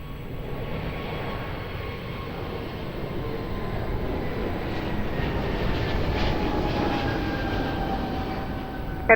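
Broad steady roar of an airliner approaching runway 02 at Lisbon Airport, a continuous engine rumble that swells slightly louder toward the end, with no talk over it.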